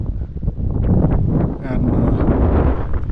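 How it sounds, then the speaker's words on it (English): Strong wind buffets the microphone outdoors on a motorcycle tour in Ladakh near the Shyok River, on the road to Pangong Tso. The roar is loud and continuous, with a voice talking through it. "I hope you can hear me, it's so windy here"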